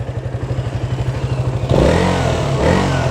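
A KTM motorcycle engine idles with a rapid, even thumping pulse, then revs up sharply into a loud, rough roar held close to the microphone.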